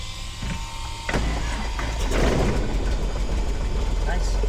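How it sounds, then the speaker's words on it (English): A small airplane's piston engine cranks and catches, a steady low rumble that grows louder and rougher as it settles into a running drone, close by, with no talk over it. "With that, our engine has started"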